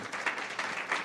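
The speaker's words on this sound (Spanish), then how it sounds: "Démosle un aplauso al Señor, pero déselo fuerte que es para Él" Brief applause from a church congregation, a dense patter of many hands holding steady for about a second with a couple of swells, at moderate level and with no talking over it.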